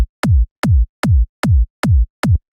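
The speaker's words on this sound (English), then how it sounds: "The kick itself sounds like this." Punchy Trance Kick 9, a trance kick drum sample, hits six times in an even beat, each a loud, tight punch with a clicky attack and a quick, deep low tail, separated by silence.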